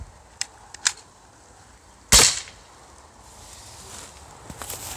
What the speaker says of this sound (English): This is paintball gun versus foot.